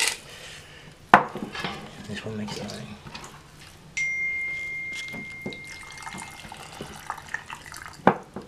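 Tap water runs into a kettle at a kitchen sink while canning raw meat, a steady rushing stream with clanks of pots and utensils around it and a sharp knock near the start and end.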